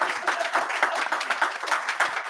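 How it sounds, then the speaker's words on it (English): An audience claps after a talk and question session, producing steady, dense applause that stays loud and even throughout, with no voices over it. "Let's just all clap for everyone."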